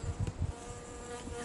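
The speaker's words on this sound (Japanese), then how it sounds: "とうとう蜂が出てきたか。" A bee buzzes close by on a steep mountain trail in Nara, with a few louder low droning bursts at the start as it passes near, then a fainter lingering hum.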